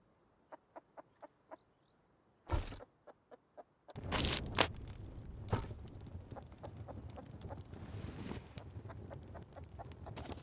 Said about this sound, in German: diese Hühner gehen mir auch schon wieder auf den Bommel